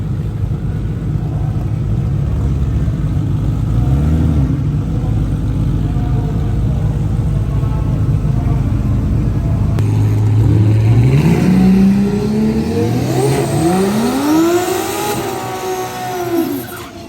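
At a drag race elimination round, a Camaro and a rival car sit idling near the line with a deep rumble, then the engines rev up and climb in repeated loud surges toward the launch.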